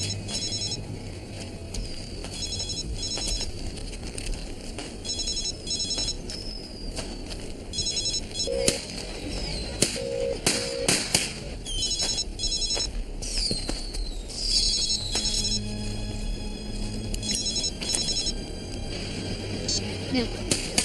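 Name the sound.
telephone ringing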